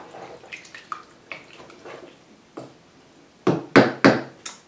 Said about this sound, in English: Give it a nice little stir.